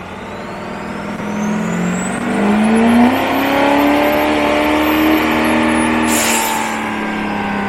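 A compound-turbo Duramax diesel truck makes a loud, sustained dyno pull, its engine note rising and holding steady with turbo whine, close and alone.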